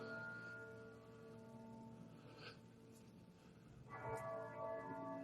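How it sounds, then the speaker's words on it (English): Church bells of Lincoln Cathedral ring faintly in the distance, sustained tolling tones blending with quiet outdoor ambience, with another stroke sounding clearer toward the end. "So can you hear the bells"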